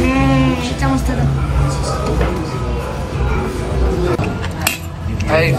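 A spoon clinks and scrapes on a plate while someone eats noodles. Light metallic taps come through under near-continuous conversation.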